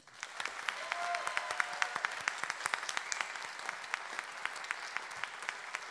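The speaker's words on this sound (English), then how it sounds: "please, another round of applause for Rachel Quell." A crowd at a keynote address applauds steadily, many hands clapping in a dense patter that holds at moderate level throughout.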